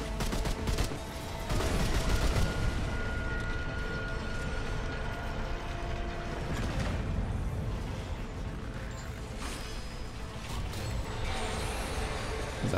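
Rapid-fire weapons shooting in the game Remnant 2, a dense, steady clatter of fast gunfire and mechanical noise that runs continuously and loud throughout.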